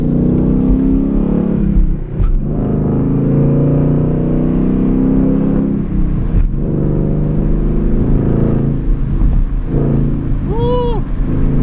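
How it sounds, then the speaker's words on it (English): A loud 5.0 V8 engine of a 2020 Ford Mustang with its muffler deleted rumbles and revs hard throughout, close up and deep, with a brief voice near the end. "Oh my god, this car is so loud"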